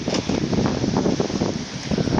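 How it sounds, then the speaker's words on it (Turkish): Strong wind buffets the microphone in a steady, loud, rumbling rush with no pauses. "Burada ciddi bir rüzgar var."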